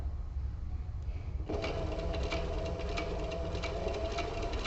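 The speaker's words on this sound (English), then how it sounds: "Now I think I'm sewing fine." A sewing machine stitches a leather tablet case, starting as a low idle hum and picking up after a second into a steady, rapid mechanical chatter at close range, with no talking.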